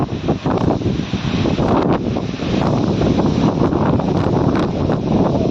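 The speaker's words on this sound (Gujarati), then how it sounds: "અત્યારે ફૂલ પવન ફૂંકાય છે" Strong storm wind roars steadily and loudly into the microphone during a cyclone with heavy rain, a continuous buffeting rumble with gusty surges and no voices.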